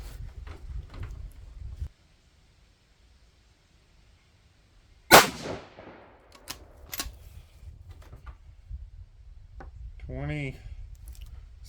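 A single sharp 6mm ARC rifle shot, loaded with Barnes 112 grain Match Burner bullets over 27.2 grains of N540 powder, cracks loudly and decays quickly after a quiet pause, followed by faint handling clicks and a brief mechanical whir.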